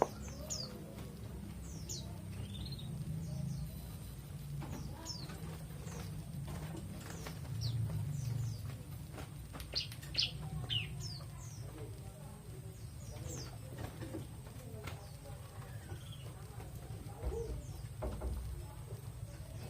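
Bar-winged prinias trade short chirping calls back and forth over a low rumbling background, with a voice speaking at times.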